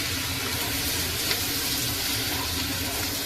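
Water poured into pasta frying in a pan gives a steady broadband hiss and sizzle, continuous and fairly loud for a few seconds.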